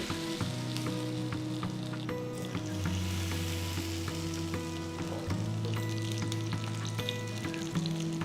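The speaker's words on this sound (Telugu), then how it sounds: "నూనె వేడెక్కిన తర్వాత చేపని నూనెలో వేసి వేయించాలి" Fish fries in hot sesame oil, a dense continuous sizzle with bubbling and a low steady hum underneath, close and even throughout with no speech.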